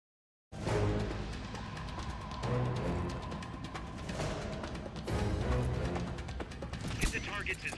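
Gunfire at training targets in the video game Metal Gear Solid Peace Walker, a dense run of rapid shots and impacts with game effects, while a voice speaks over it.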